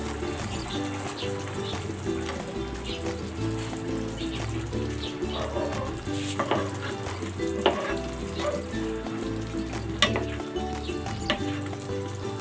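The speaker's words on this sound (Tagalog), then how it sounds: "Ilalagay ko na dito yung prinito nating bangus." Fried milkfish (bangus) sizzles in a black bean sauce in the pan, a steady close frying crackle broken by scraping stirs and small clinks, with no talk.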